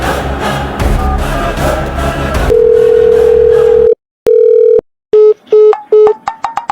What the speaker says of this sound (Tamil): ஃபோன் பண்ணுறேன்